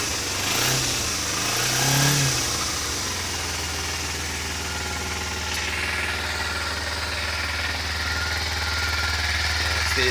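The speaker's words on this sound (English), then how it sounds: "And now with the choke on, if you rev it" A Kawasaki Ninja motorcycle engine runs steadily with the choke on, a rough, throbbing idle, briefly blipping the throttle early on, loud and close with no talking.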